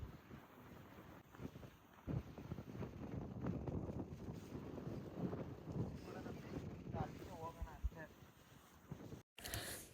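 Strong wind gusts across an outdoor photoshoot spot in Mysuru, a steady rumbling roar on the microphone with faint voices talking beneath it.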